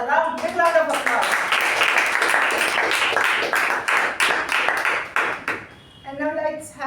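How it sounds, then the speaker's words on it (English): Audience clapping for a table topic session at a Toastmasters club meeting, a steady round of many hands lasting several seconds, with a voice speaking at the start and again as the applause ends. "A big round of applause."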